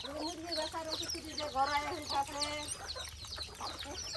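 Several native chickens cluck nearby in short repeated bursts at a rural home kept with ducks and pigeons, with faint background noise.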